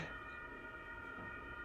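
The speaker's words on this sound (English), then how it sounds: "now I hear the sirens again" A steady siren wails at a distance, faint and continuous, with no speech over it.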